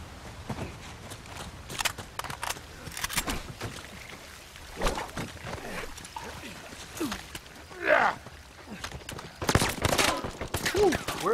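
Gunfire in an Uncharted 4 multiplayer match comes as scattered bursts of shots, some sharp and close, some distant, mixed with game effects under a player's occasional talk.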